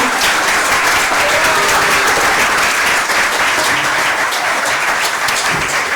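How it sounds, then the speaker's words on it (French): A crowd in a hall at an official speech event gives soldier Diaboy sustained, loud applause. The dense clapping stays even for the whole stretch, with a faint murmur underneath. "c'est tout ce qu'il mérite comme applaudissement"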